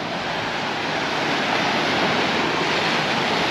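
Sea waves wash onto the beach at Costa de la Calma, Mallorca, in a loud, continuous broadband rush, with a windy edge and no breaks.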